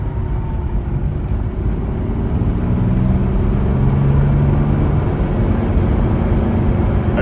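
A Jaguar Mark 2 with a 3.4 engine that won't rev past 3,000 rpm gives a steady, heavy low rumble that rises slightly and stays held without climbing further, close and unbroken, with no talk.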